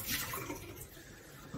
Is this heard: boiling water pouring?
yes